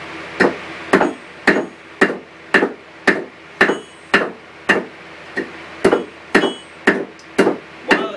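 Hammer strikes hot steel on an anvil while a steel leaf is hand forged, about fifteen loud, evenly spaced ringing blows in a steady rhythm with no talk.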